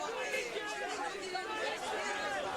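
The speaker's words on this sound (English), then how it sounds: "He can hear the scream of the crowd alongside him." Roadside spectators on the Blockhaus mountain climb of the 2017 Giro d'Italia shout and yell alongside a passing cyclist, a dense continuous wall of excited voices, moderately loud and steady throughout.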